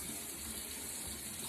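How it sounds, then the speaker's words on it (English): A bathroom tap runs steadily while someone shaves, giving a constant, even hiss of flowing water with no pauses. "We're going to leave the water on just so it stays warm because I'm going to rinse my razor as I'm shaving"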